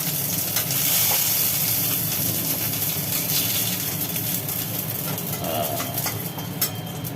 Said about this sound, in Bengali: এইবার তেলে পড়লো চিংড়ি এবার চিংড়ি মাছগুলোকে একটু ভেজে নেওয়া হবে